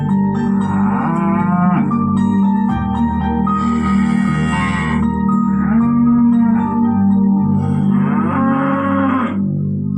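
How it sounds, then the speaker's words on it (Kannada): Cattle moo loudly and repeatedly at close range, long drawn-out bovine calls overlapping across a steady farmyard background with no talk. "ಏನಿದು ಇಷ್ಟೊಂದು ಹಸು ಕೂಗೋ ಸೌಂಡ್ ಕೇಳಿಸ್ತಾ ಇದೆ?"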